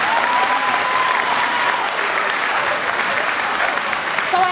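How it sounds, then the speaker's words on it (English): An audience claps and cheers for middle school performers at a Black History Month program, steady and loud throughout with no pauses. "Let's give them another big round of applause."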